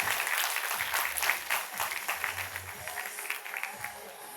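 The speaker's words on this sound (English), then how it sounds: "Let's give them a huge round of applause, audience." An audience at a student results celebration claps for a student and parents, a dense, sustained round of applause with brief voices underneath, staying lively from start to finish.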